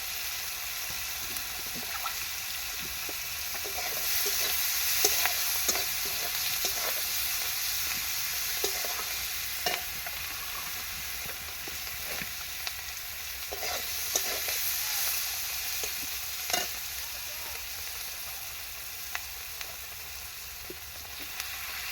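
Food fried with turmeric in a pan sizzles steadily while a utensil stirs and scrapes in frequent short, irregular strokes, close and clear, with no talking.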